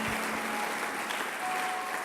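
Congregation applauding in praise of the Lord during a French-language church service, a dense, steady wash of many clapping hands, loud and sustained throughout with no pauses.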